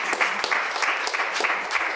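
Audience clapping after a data presentation at a conference, a moderate burst of applause with dense, steady hand claps throughout.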